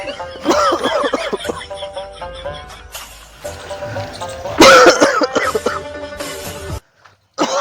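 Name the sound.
coughing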